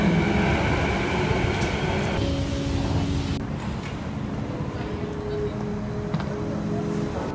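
A SkyTrain-style metro train at Yaletown station rumbles and hums close by, a steady loud drone with a brief pitch shift as it moves, no speech over it.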